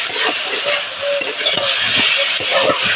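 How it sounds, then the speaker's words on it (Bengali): Amaranth greens (data shak) with green chillies frying in oil in a pan, a steady close sizzle broken by repeated scraping stirs, with no talk over it. "দিয়ে ভালো করে এটাকে আমি নেড়ে নিব, না হলে তলাতে লেগে যাবে আবার।"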